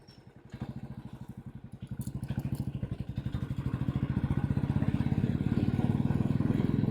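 A motorcycle engine thuds rhythmically near a Karnataka check post, building from a low idle to a louder, steady throb as the bike moves off.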